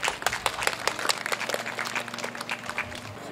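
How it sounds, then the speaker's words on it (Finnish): A small audience applauds outdoors at a sand sculpture exhibition in Heinola, distinct individual claps in an uneven rhythm, fairly close and moderately loud. "No niin, ja aplodit."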